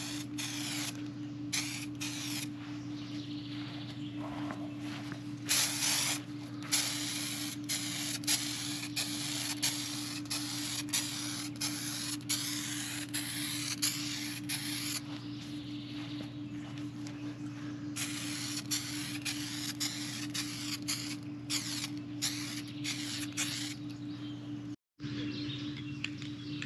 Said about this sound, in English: now we're gonna spray a color coat on